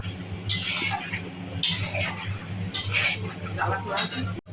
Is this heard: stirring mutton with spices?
yes